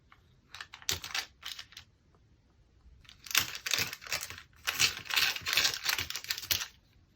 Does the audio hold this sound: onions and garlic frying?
no